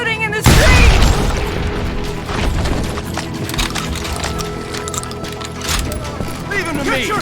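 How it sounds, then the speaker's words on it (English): Gunfire and booming blasts in a street shootout in the Western video game Call of Juarez: Gunslinger, opening with a loud burst followed by a busy mix of shots and impacts under a talking voice. "They're shooting in the street!"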